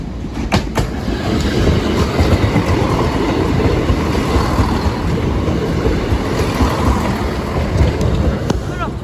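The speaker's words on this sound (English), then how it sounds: "Train's approaching." LMS Black 5 steam locomotive 44871 passes Sleaford East level crossing, a loud continuous rumble of wheels with rhythmic clickety-clack over the rails, close by, throughout.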